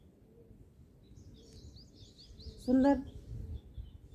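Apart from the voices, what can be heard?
birds chirping outdoors at a stadium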